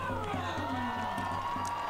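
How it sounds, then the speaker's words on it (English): A stadium crowd at a 2022 NWSL soccer match between Washington Spirit and Racing Louisville cheers as Kelly O'Hara comes on, a steady distant roar with a commentator talking over it. "the crowd now greeting O'Hara into this match"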